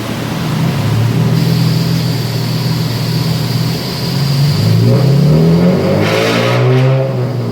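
A Nissan 350Z engine roars loud and close on a dyno, revving steadily, then its pitch sweeps upward as the throttle climbs, with no talking.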